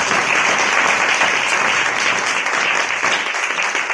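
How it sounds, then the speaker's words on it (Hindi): A church congregation applauds loudly, producing a dense, sustained burst of many hands clapping that stays full and even from start to finish. "ऐसे जोरदार ताली बजाएंगे"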